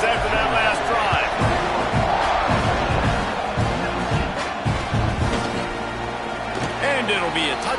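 Football stadium crowd roaring and cheering continuously through the whole stretch as the kickoff unit takes the field, loud and dense, with a commentator talking over it.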